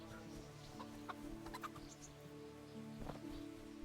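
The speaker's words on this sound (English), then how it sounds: "This area was taken over by chickens." Chickens clucking in the video game Kingdom Come: Deliverance, several short scattered clucks and squawks over a quiet ambient hum, moderately close.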